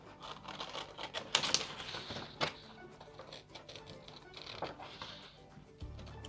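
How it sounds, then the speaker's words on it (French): Scissors snip through three stacked layers of pattern paper at a dressmaking table, a few crisp cuts and rustles in quick bursts, close but fairly quiet. "je vais couper en même temps 3 épaisseurs de papier"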